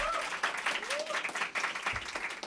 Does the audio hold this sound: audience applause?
yes